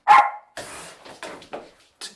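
Animal making bark-like sounds: a sharp loud bark, then several shorter rough yips and huffs in uneven bursts with silent gaps.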